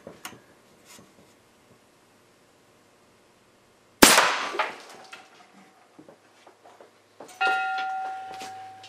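A DIY big bore air rifle fires a AA battery as its projectile: one sharp, loud crack after a few seconds of near silence, followed by faint clatter and a bright ringing metallic ding near the end.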